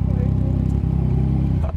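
Motorcycle running with its chain guard missing, a loud steady engine drone with a rattling, clattering chain noise close up, ending with a brief bump.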